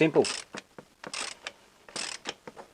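A ratchet undoes the oil filter cap on a Ford Ranger 3.2 litre, giving several short, close clicking bursts in an uneven rhythm with brief pauses between them.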